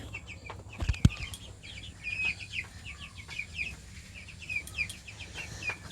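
Broiler chickens cluck and chirp inside a coop built for 26 birds, with steady soft calls over low rumbling background noise and one sharp knock near the start.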